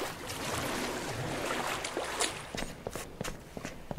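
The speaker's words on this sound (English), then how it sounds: "It's my own footsteps sound like there's somebody behind me" Footsteps in the horror game Pools, soft echoing steps in a hollow, watery space, several light footfalls toward the end over a faint ambient wash.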